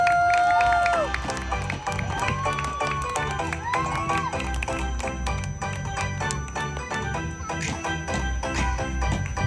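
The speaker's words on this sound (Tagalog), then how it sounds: "Yung malakas po, palakpak!" A lively crowd at a child's birthday party cheers and claps in a busy room, the noise steady and loud, with scattered voices and shouts rising through it.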